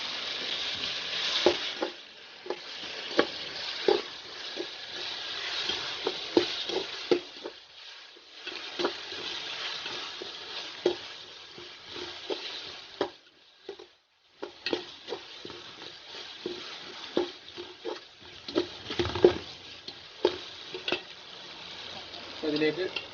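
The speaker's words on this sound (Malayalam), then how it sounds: "ഇതെല്ലാം പാടെ ഇട്ടിട്ട് ഇനി നന്നായിട്ടൊന്ന് മിക്സ് ചെയ്ത്." Ginger and crushed green chilli are stirred in a pan for chicken biryani, giving a steady close sizzle of frying with repeated scraping taps of a spoon, broken by a short pause, and carrying on over faint background talk.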